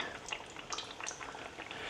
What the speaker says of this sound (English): time to get our pies down in the oil